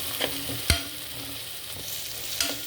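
Ginger garlic paste sautés in a pan for chicken biryani, a faint low sizzle broken by a few sharp scraping stirs of the spoon, with no voices.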